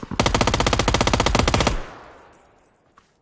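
An MG3 machine gun firing in PUBG, a loud close burst of very rapid, evenly spaced shots lasting about a second and a half, then cutting off into a fading echo.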